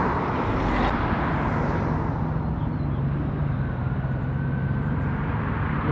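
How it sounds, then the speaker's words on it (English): An army helicopter buzzes overhead above a truck gathering at Penrith, a steady loud rumbling engine drone mixed with outdoor traffic noise, continuous throughout with no voices. "I guess it's army, helicopter buzzing around."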